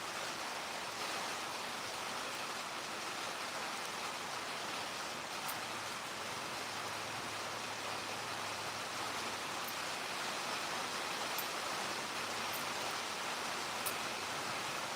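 Heavy rain falls in a constant, even wash of noise that stays steady from start to end, with no voices over it.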